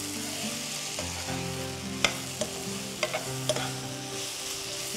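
Okra (ladies finger) sautés in a pan with a steady sizzle, punctuated by a few sharp spatula scrapes and clicks as it is stirred, over a low continuous tonal hum.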